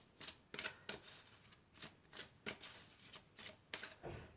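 Tarot cards are handled and drawn from a deck, giving soft, close papery flicks and snaps in an irregular series of about a dozen quick rustles with no talking.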